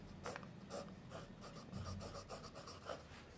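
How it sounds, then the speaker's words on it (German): An iridium-tipped fountain pen gliding across paper, giving a soft, repeated scratching of short strokes in an even rhythm, close up and very faint against a quiet room. "durch dieses Iridiumkorn gleitet der Füllhalter angenehm weich übers"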